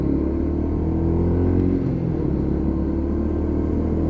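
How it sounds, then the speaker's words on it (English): A Lexmoto LXR 125 motorcycle engine gives a steady, low, close rumble that rises briefly as the rider revs to match a downshift, then settles back. "What I tend to do is rev match as I come down."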